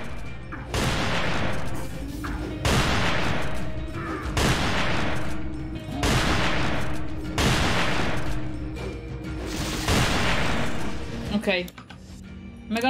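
Close shotgun blasts in the Rising of Evil mod video game fire about every two seconds, five or six heavy booms with ringing tails, and talk runs underneath.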